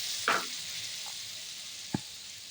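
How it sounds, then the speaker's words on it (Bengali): Black mustard paste fries with garlic in hot oil for a Bengali fish curry, a soft, steady sizzle with a couple of brief spoon knocks against the pan. "এর মধ্যে বাটা সর্ষে দিয়ে দেবো"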